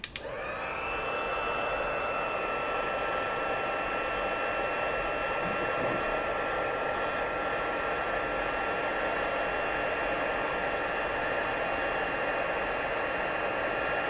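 Heat embossing gun blowing hot air over a papercraft card, a steady loud whooshing fan roar with a faint whine that starts abruptly and runs unbroken to the end.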